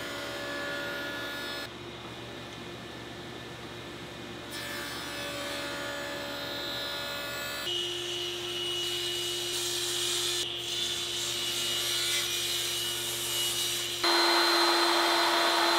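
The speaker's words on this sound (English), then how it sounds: "I need to hollow out the inside with the stack dado set" Stack dado set on a table saw hollowing out a wooden lamp cover: a sustained, loud machine whine with steady tonal hum, shifting in pitch as the cut progresses, running continuously without talk.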